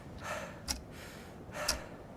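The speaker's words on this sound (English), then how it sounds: "Stop breathing so heavily, man" Two heavy, breathy gasps about a second apart, close to the microphone and fairly quiet, each ending in a sharp puff of air.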